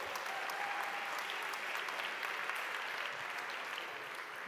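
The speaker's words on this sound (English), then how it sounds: "Can you give them a big round of applause" A conference crowd claps for a live band in sustained, even applause, somewhat distant and soft, with no talking over it.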